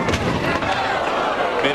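A bowling ball crashes into pins on lane 26 during a professional tournament final, a loud broad clatter that rolls on under crowd noise in a big bowling center.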